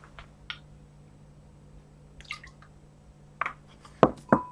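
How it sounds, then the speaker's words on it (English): Milk spooned by the tablespoon into a bowl holding a cracked egg, a few small wet drips and splashes spread across a quiet room, with louder splats near the end. "And then you want to take your 2 tablespoons of milk, like this."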